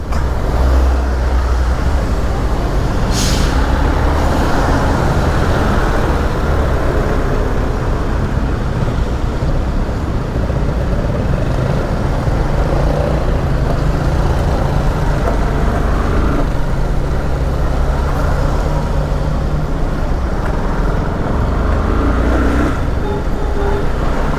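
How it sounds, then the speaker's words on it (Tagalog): Road traffic passing through a flooded area in Amparo, a steady loud roar of engines and tires with a constant broad wash of noise and occasional louder passes, no voices. "Dito na naman ang traffic."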